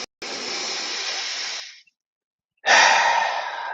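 Deep breaths during a guided breathwork exercise come close to the microphone: a long airy inhale, a pause of silence, then a strong rushing exhale.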